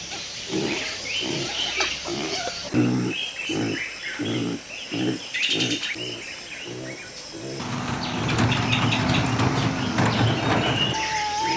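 Free-roaming pigs in a Cameroonian village grunt and snort in rhythmic, repeated bursts, close and fairly loud, over rustling outdoor background, with denser mixed animal and village noise later.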